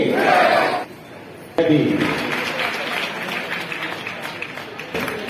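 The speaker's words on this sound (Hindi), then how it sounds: "तालियां जोरदार तालियां।" A crowd at a public event applauds loudly. The clapping stops briefly, then swells again and goes on steadily, mixed with cheering voices.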